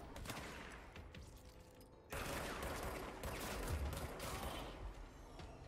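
Gunfire in the video game Control, dense rapid crackling shots and mechanical clatter blending into a continuous loud burst, intensifying partway through.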